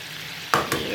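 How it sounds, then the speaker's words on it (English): An egg cracked into a hot pan to fry sunny side up, with two quick bursts of sizzling over a quiet background, no talking. "I'm going to make sunny side up"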